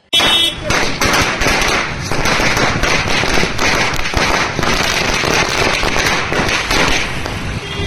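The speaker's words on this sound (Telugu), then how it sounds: "మిఠాయిలు పంచుకుంటూ టపాసులు పేల్చుతూ సంబరాలు చేసుకున్నారు" Firecrackers bursting at a BJP celebration in Achampet town, a dense, loud barrage of rapid crackling pops and bangs running continuously throughout, with faint voices underneath.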